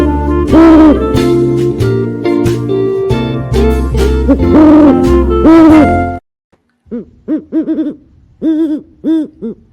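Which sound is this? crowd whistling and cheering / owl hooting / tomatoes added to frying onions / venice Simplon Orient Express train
owl hooting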